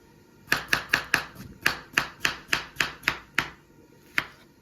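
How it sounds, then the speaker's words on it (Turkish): A knife chops strawberries rhythmically on a cutting board, about a dozen crisp, close thuds in quick succession, then a brief pause and one final chop. "Kivilerimizi doğradıktan sonra çileklerimizi doğrayacağız. Hemen onları da doğrayalım."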